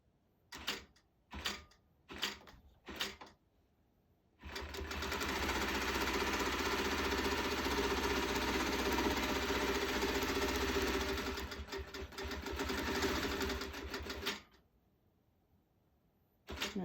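A computerized sewing machine running a recorded Perfect Stitch pattern automatically stitches around an applique. A few short bursts come first, then about ten seconds of steady, close, continuous motor whir and needle chatter that stops abruptly.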